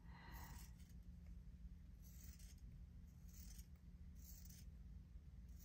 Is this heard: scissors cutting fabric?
yes